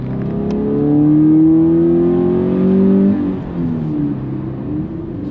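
A naturally aspirated 2020 Subaru BRZ engine with the Limited Performance Pack revs loudly from inside the car while driving, pitch climbing through the gear then dropping on a shift and building again.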